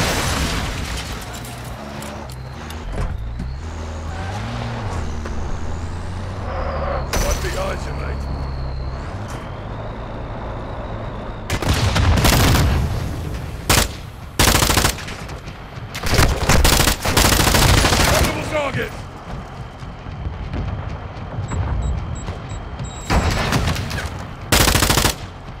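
Heavy gunfire from a Call of Duty battle in a valley near oil fields: bursts of machine-gun fire and rapid shots come in dense, loud clusters, with radio chatter and engine rumble between volleys.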